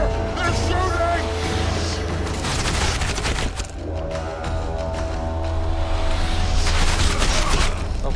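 Gunfire in The Witcher 2 during an ambush, a loud fusillade of shots mixed with booming impacts and a steady low engine-like drone throughout, with shouting voices over it.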